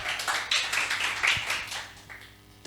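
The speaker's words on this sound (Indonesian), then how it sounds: "Tepuk tangan tuh Tuhan Yesus." A church congregation claps during a sermon, with a short burst of rhythmic hand claps that fades and is cut off by a final sharp clap.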